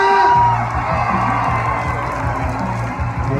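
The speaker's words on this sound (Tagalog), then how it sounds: "Pwede bang palakpakan may halong hiyawan?" At a large outdoor peace rally in Davao City, a big crowd claps and cheers in a sustained roar of mixed shouts and whoops, loud and dense throughout with no single voice standing out.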